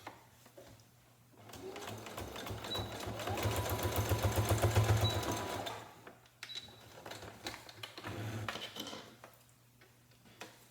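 A sewing machine stitches a shoestring onto a paper towel face mask, running in a steady rapid burst for a few seconds, pausing, then starting again in shorter runs, close and clear with no talking.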